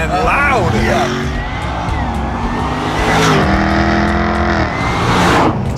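Loud sports car engine and exhaust of the 2016 SVR, roaring through repeated revs and gear changes with rising and falling pitch, close and aggressive, with people talking over it.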